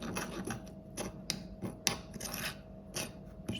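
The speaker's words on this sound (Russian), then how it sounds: "Все эти специи перемешиваю тут прям в ступке" Cumin and black pepper are stirred and ground together in a mortar, giving a close, steady gritty scraping with repeated sharper clicks and taps of the pestle against the bowl, with no talking.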